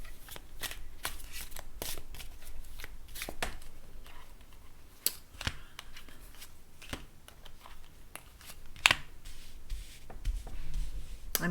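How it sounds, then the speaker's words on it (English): Tarot cards are shuffled close up for a reading, a continuous run of soft riffling slaps and rapid flicks with irregular sharper snaps. "I'm going to pull 5 of these cards"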